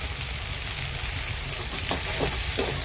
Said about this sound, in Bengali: আলু পেঁয়াজটা একটু ভাজা হয়ে গেছে